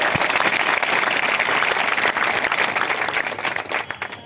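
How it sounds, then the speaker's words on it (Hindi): Loud crowd applause at a large public rally of the Gurjar community in Gangapur, a dense, continuous roar of many hands clapping close by that holds steady throughout. "सबसे पहले विजय जी का और पूरी टीम का और बाहर से आए सभी सरदारी का एक बार जोरदार तालियां बजा के गंगापुर में स्वागत करें।"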